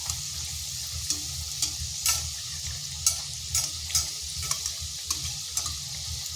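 Egg and onion snacks fry in hot oil in a wok with a continuous soft sizzle, punctuated by repeated light scraping and stirring taps, close and fairly quiet, with no talking.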